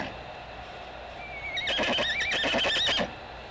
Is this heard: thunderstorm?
no